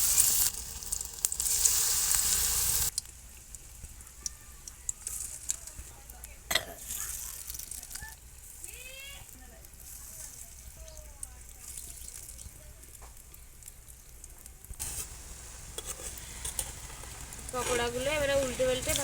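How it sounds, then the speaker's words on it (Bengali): Onion flower pakoras fry in hot oil in a home kitchen, giving a steady sizzle with occasional stirring scrapes; a person talks over the frying for much of the clip. "তেল গরম হয়ে গেছে, এবার আমি পকোড়াগুলো ভেজে নেব।"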